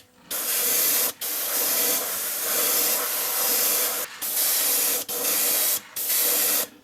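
White base coat of Testors Aztec paint hisses from an airbrush onto a balsa and aluminum fishing lure in several steady bursts, each broken by brief pauses, close and fairly loud.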